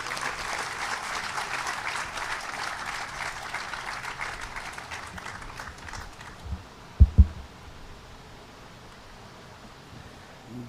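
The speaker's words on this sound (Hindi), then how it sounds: "श्री वीरेंद्र जी के लिए हम एक बार सब मिलकर के ताली बजाएंगे" Audience applause in honour of Shri Virendra Agarwal at a Bandhan Mukti Mahotsav gathering in Jaipur: sustained clapping from a crowd for about six seconds, then fading, followed by a couple of loud thumps.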